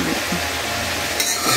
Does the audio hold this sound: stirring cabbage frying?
yes